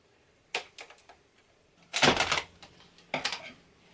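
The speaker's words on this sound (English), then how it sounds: "let's cut this open" Scissors snip through a plastic packet around a new server SSD, giving a few close, crisp crinkling cuts and rustles in short separate bursts.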